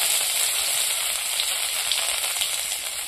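Nigella seeds and ginger frying in hot oil in a wok, a steady, close hiss of sizzling with light crackle and no other sound over it.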